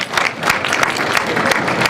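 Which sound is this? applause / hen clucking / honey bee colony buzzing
applause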